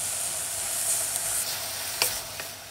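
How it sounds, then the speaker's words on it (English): Chopped onions and tomatoes sauté in a pan for an egg curry, giving a steady, close sizzle with a couple of faint pops and no talking. "Chop tomatoes now and saute them."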